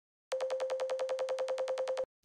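A resampled, textured synth lead looped in Reason's sampler with crossfade looping holds one steady pitch while a fast rhythmic pulsing flutters through it, about 17 even beats in under two seconds, then stops abruptly.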